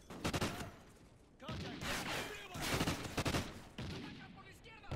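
Rapid bursts from a gun in the Call of Duty: Ghosts campaign, with loud repeated volleys and short pauses between them, backed by battlefield echo and other weapons firing nearby.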